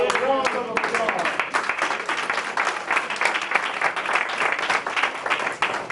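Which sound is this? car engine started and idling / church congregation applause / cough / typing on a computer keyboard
church congregation applause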